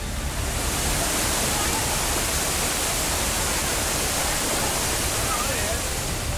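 Floodwater rushes down the river ghats in heavy rain, a loud, dense and continuous roar of churning water with no breaks. It sounds close and steady for the whole stretch.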